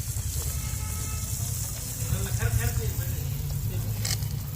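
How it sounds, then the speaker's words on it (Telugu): Jaggery rice cakes (ariselu) sizzle and fry in hot oil with a steady, close, crackling hiss that swells slightly midway. "అలా బాగా వేడిగా ఉన్న నూనె మీద వేయాలి"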